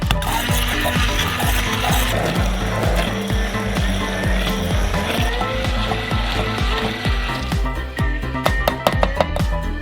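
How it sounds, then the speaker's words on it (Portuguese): An immersion blender purees a sauce until smooth, making a loud, continuous mechanical whir laced with rattling and clicking that runs steadily throughout. "Para finalizar, batemos com liquidificador de imersão, até ficar homogêneo."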